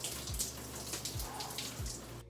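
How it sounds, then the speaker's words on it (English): A cold shower runs in a continuous hiss of spraying water, steady and moderately close, with faint low thumps underneath and no voices. "I'm gonna go take a freaking cold shower now."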